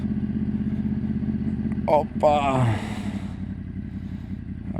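A motorcycle is ridden with a steady, close engine drone running under the whole stretch, and a short spoken exclamation with brief talk rises over it midway.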